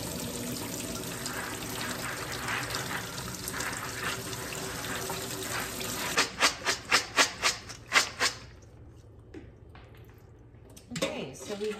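Soaked peas are rinsed in a cauldron: running water and wet rubbing at first, then a run of rhythmic sloshing splashes, a quiet gap, and a final splash, all close up.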